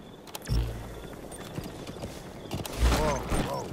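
A horse ridden in the video game Metal Gear Solid 5, a few thudding hoof steps and creaking tack, with a snorting breath near the end, quiet and close, with a voice speaking lightly.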